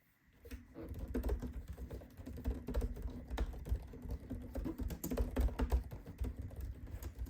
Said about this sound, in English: Alright, so let's test the keyboard.